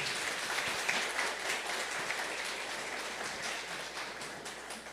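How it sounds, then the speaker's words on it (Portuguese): A congregation at Sunday Mass applauds for Jesus at the priest's invitation, a soft, steady wash of many hands clapping in a large church, sustained and fairly distant throughout. "Quem concorda com o padre, dá uma salva de palmas para Jesus"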